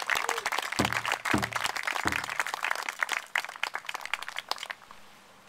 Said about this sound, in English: everybody give Eddie a round of applause and welcome him here in a good way.